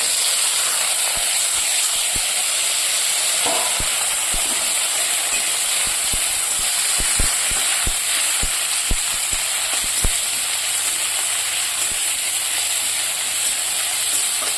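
Onion, garlic, green chilli and nigella seeds fry in hot oil with a steady, dense sizzle and hiss, broken by frequent sharp spatters and crackles throughout.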